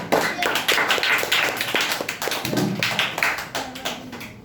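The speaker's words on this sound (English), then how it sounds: "Clap for Kunal." Hands clap steadily from a school audience at a public speaking competition, a crisp, moderately loud patter of many claps lasting several seconds, with brief talking mixed in.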